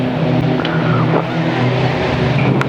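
Junior saloon race car at Kings Lynn speeding down the back straight, loud steady engine drone with shifting pitch, close and continuous.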